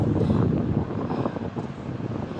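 Wind gusts buffet the microphone at an outdoor construction site in Santa Rosa, Laguna, making a loud, uneven rumble and rush that swells and eases, with no voices.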